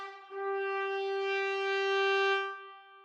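A single sustained orchestral trumpet note from a sample library, held clean and bright for over two seconds before fading, heard alone.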